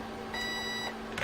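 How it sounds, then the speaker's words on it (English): One clear electronic beep from an RC jet boat's speed controller, lasting about half a second, rises over a low steady hum. "Single beep."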